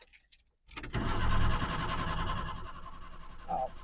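Bedford Bambi camper van engine cranking after a short pause, a loud sustained grinding whir that fails to catch and trails off without firing, no talking.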